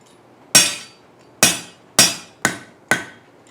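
A hammer taps hot metal on an anvil while a pintle hinge is forged, five sharp ringing strikes with short decays, spaced irregularly and close up, with no talking.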